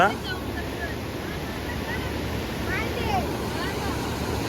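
A swollen river after heavy rain, a broad continuous roar of rushing water heard close and steady, with faint bird calls over it and no talk.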